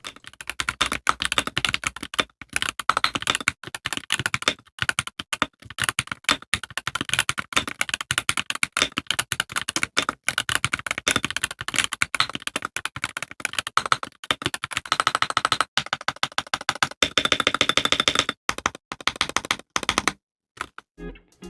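Rapid typing on a KBD67 Lite keyboard fitted with Gateron EF Curry switches and OEM pudding keycaps, a dense stream of close, crisp clacks with brief pauses and bursts of faster keystrokes throughout.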